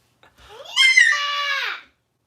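A three-year-old child screams loudly, one sustained high-pitched shriek that rises, holds for about a second and then cuts off, heard alone and close up.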